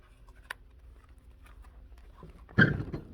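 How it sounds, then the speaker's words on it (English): A crafting table bumped once, a dull close thud with a short rattle after a quieter tap earlier, amid near silence. "oops, sorry, didn't mean to bump the table"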